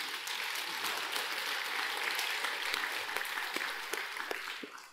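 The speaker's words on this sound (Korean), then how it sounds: "그렇기 때문에 내가 박수치라고 한 거예요." A congregation at a Sunday Buddhist Dharma service claps together in a dense, sustained round of applause that holds steady before tapering slightly at the end.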